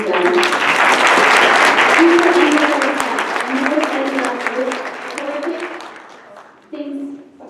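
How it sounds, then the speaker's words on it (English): Sustained audience applause at an EPA public comment meeting, dense clapping with some voices mixed in that slowly tapers, then a short renewed burst near the end. "I want to give you an applause for all that you've done."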